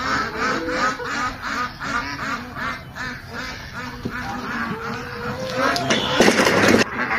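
A duck walking along a rural road quacks over and over, a series of loud, close, nasal calls in an uneven rhythm that grows busier and noisier toward the end.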